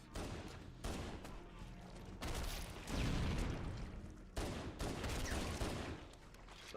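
Heavy bursts of shotgun fire in Halo, loud repeated blasts in clusters separated by short lulls, booming close up amid the noise of battle, with no talk over them.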